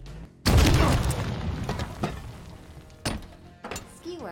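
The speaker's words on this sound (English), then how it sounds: "Well, it's a rocket launcher." Rocket launcher fired in Halo Infinite: a loud booming launch followed by a second heavy blast, with a few more thuds trailing off over a short stretch.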